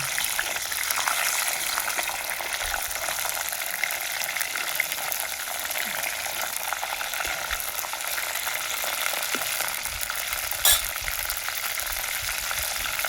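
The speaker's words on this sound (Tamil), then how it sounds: "இந்த கருவாடை எண்ணெயில் போடணும்" Dried fish sizzles steadily in sesame oil in a pot on a mud stove, a dense, even crackling hiss that runs unbroken and close, with one brief sharper pop near the end and no voices.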